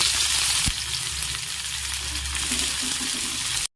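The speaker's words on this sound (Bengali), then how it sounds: "এবার আস্তে আস্তে আমরা পেঁয়াজগুলো ছেড়ে দেবো" Onions for a chicken curry slide into hot oil, setting off a sudden sharp hiss that settles into a loud, continuous close-up sizzle before cutting off abruptly.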